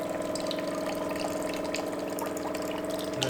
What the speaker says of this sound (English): drains out of this blue hose